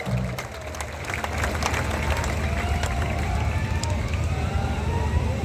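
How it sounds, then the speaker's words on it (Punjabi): Loud, continuous applause from an outdoor audience at the Baba Danewal mela, a Punjabi fair, steady dense clapping that swells slightly and holds throughout. "ਦਰਬਾਰ ਦੇ ਨਾਲ ਤੇ ਤਾੜੀਆਂ ਮਾਰੋ ਜ਼ੋਰਦਾਰ।"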